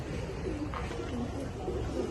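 Giribaz pigeons, including adult males, coo in low, continuous murmurs against a steady background noise.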